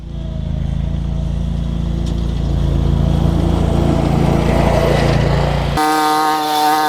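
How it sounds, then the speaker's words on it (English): A 2017 Hustler Raptor SD 60-inch zero-turn lawn mower engine running, a loud steady close drone that rises slightly as it revs, then shifts abruptly to a higher whine near the end. "let's get it started and take it for a spin."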